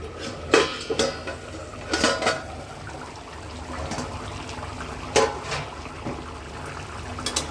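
Metal lid lifted off a cooking pot of pumpkin simmered with hilsa fish head, giving a few sharp clanks and clatters close by over a low background hiss, with no one talking.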